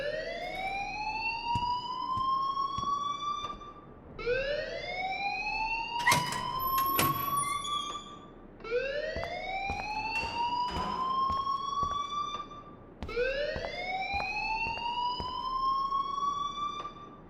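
In the video game Life is Strange, an alarm wails in four loud, rising sweeping tones, each lasting about four seconds with short gaps between, and a brief metallic clatter lands in the second cycle.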